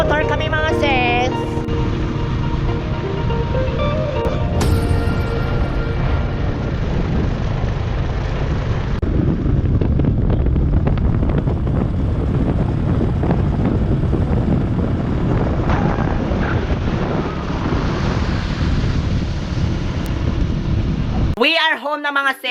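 Rushing wind buffets the microphone while riding on a motorcycle along a rural road, a loud, continuous roar with low engine rumble underneath for about twenty seconds, with brief voices near the start, then an abrupt cut at the end.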